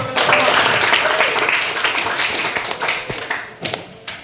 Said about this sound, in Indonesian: berikan aplaus untuk teman-teman